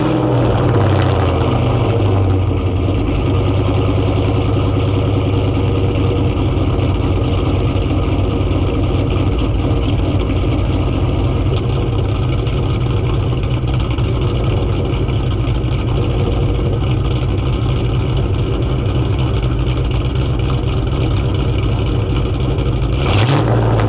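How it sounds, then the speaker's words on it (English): A cammed New Edge Mustang GT V8 with a catless X-pipe and Loudmouth mufflers, essentially straight-piped, idles loud and close with a heavy, choppy lope that holds steady throughout, with no talk over it. "It does have a full Catless X pipe along with the SOP Loudmouth 1 mufflers, which essentially this car is a straight pipe."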